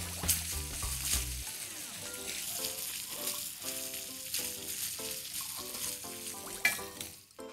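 Sausage fries in a pan for a breakfast potato dish, a steady close sizzle and crackle running throughout with bursts of stirring, and a faint melody playing underneath.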